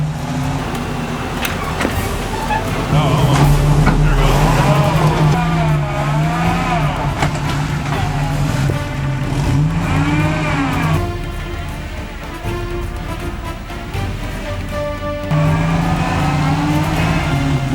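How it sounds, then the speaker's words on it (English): A car pulling a restoration-project RV trailer revs hard with its wheels spinning and digging into the ground, engine pitch rising and falling in long loud surges close by, with no talking. "he started pulling, and his wheels were digging and grating in the ground."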